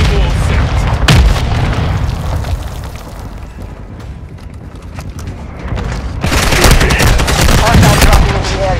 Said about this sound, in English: Friendly mortar